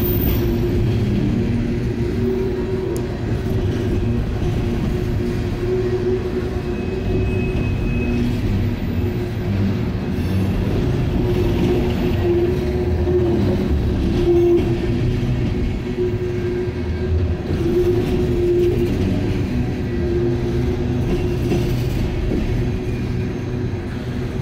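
A long, heavy rumble of a CSX freight train of open hopper cars rolling by steadily, loud and continuous with low droning and clattering throughout, no voices.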